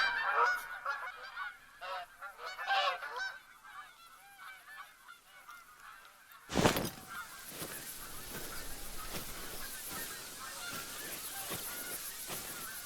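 Near a field in open countryside, a white goose gives a run of honks, then a sharp loud thump cuts in and leaves rustling, handling noise that carries on to the end.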